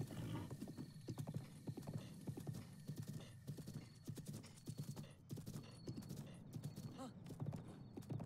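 A horse in Zelda: Breath of the Wild gallops with a steady rapid clip-clop of hooves and an occasional neigh, moderately close and quiet overall.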